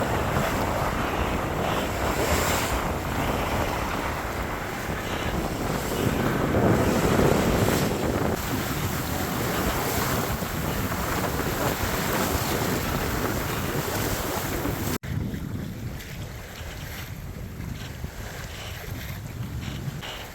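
A sailboat moves under sail with no engine, its hull washing through waves while steady wind buffets the microphone; the broad rushing noise runs continuously and close throughout, with no one talking.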